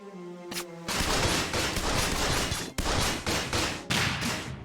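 Cannon fire in the video game Ni No Kuni 2: Revenant Kingdom, dense loud blasts with a sharp opening boom and rapid repeated bursts throughout, with no talking.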